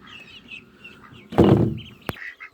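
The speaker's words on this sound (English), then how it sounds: "Here is our older duckies." Older ducks on a small mini farm give a short, loud burst of calling, followed by a sharp click and faint chirps in the background of an otherwise quiet setting.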